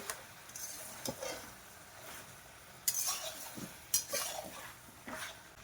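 Meat being stirred and sautéed (kosha) in a pot during home cooking, sparse metallic spoon clinks and scrapes against the pot over a low sizzle, a few sharp hits standing out, no talking.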